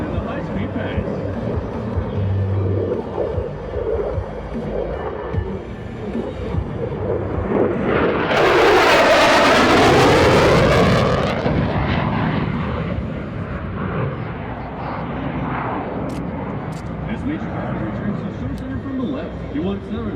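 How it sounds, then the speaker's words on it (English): An F-16C Fighting Falcon jet makes a high-speed pass at an airshow, its roar swelling to a loud peak and then fading into a distant rumble, with an announcer talking over it. "the F-16 in the high-speed pass"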